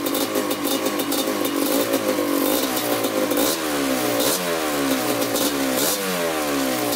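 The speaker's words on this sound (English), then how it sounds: "We're gonna let it run for about 10 minutes, whipping the throttle." A rebuilt Kawasaki Tecate 250 ATV engine runs loud and close during break-in, its pitch repeatedly rising and falling as the throttle is blipped, with a steady rattly idle underneath.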